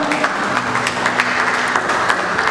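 A church congregation claps steadily, a dense, even patter of many hands filling the room with no talking.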